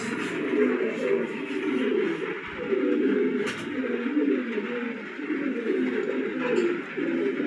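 A flock of fit racing pigeons coos continuously, overlapping low throaty warbles close by and fairly loud, with a brief sharp knock midway and no talk.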